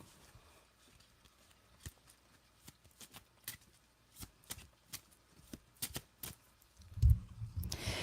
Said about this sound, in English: I want to pull cards from the Secret Garden Oracle.